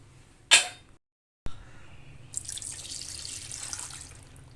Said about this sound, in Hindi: 3 गिलास पानी डाल लें।